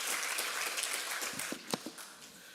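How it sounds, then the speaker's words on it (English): Scattered applause from a conference audience at a DevOps event in Eindhoven, a soft broadband patter that holds steady for a couple of seconds, with a few sharper claps standing out near the end. "please give Claude a round of applause and take it away"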